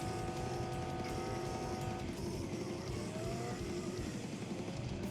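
Car driving through Night City in the video game Cyberpunk 2077, a steady engine drone with low rumble that holds at an even level throughout, fairly quiet and with no voices over it.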